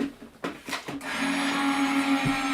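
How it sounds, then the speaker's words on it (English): A die cut machine runs card stock through to cut Valentine treat boxes, starting with a few short mechanical clunks and then settling into a steady, fairly loud motor hum with a constant tone. "Let's go ahead and run this through the die cut machine"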